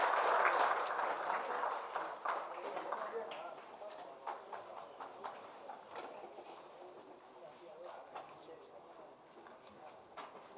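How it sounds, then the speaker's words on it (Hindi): Audience applause welcoming Bihar's chief minister at a National Handloom Day government event, a broad wash of clapping that starts strong and gradually thins and fades over about ten seconds, with scattered sharper claps toward the end. "स्वागत जोरदार तालियों से कीजिए मुख्यमंत्री बिहार श्री नीतीश कुमार जी।"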